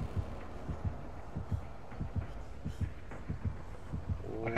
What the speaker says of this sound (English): I can hear the heartbeat.